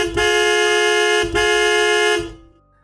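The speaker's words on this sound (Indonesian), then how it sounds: "Majid dikagetkan oleh suara klakson mobil truk dari arah jalur K." Truck horn honks in two long, loud blasts with a short break between them, then stops abruptly, used as a sound effect in a horror story.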